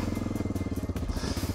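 A Honda Dominator 650 motorcycle rides slowly past, its single-cylinder engine thumping in a steady low pulse, close and fairly loud.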